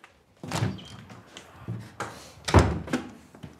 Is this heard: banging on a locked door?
yes